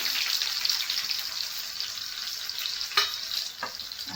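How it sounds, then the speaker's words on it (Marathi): Cumin seeds and onion fry in hot oil with a bright, steady hiss and crackle, broken near the end by two quick stirring clatters, with nobody talking. "हे जिरं ॲड करूया आणि सोबतच मी कांदा ॲड करते"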